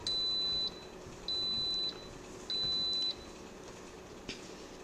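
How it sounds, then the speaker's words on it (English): A kitchen appliance beeping while seafood soup is set back on the boil, three sustained electronic tones, each lasting about half a second, evenly spaced, followed by quieter background noise. "Sorry for the beeping."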